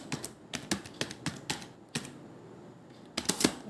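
Keys clacking on a computer keyboard, quick irregular taps in short bursts with a brief pause before a final rapid flurry, close and fairly quiet.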